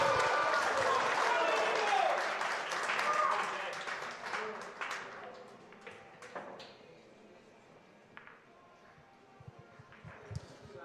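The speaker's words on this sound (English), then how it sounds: "So I think you're going to hear the crowd here." Spectators at the 2023 Scottish Open golf tournament applauding, a broad ripple of clapping that swells early and fades after a few seconds into scattered claps, while commentators talk over it.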